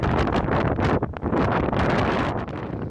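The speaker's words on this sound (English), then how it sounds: "This is the wind coming through. We've got about 50 to 60 knots." Hurricane-force wind of 50 to 60 knots tearing across a marina: a loud, unbroken roar with heavy buffeting and rumble against the microphone, gusting and dipping briefly but never letting up, with no talking.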